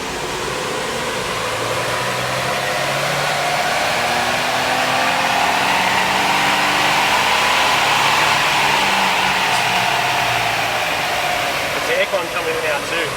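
A four-wheel-drive JDM van engine drones steadily under heavy load on a dyno, rising and holding at high revs with a constant roaring hum throughout.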